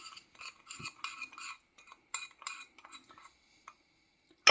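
Dry seasonings for Jamaican steamed fish are stirred together in a bowl, giving quick clinks and scrapes of a utensil against the dish in short irregular bursts, close and fairly quiet, with a louder knock at the end.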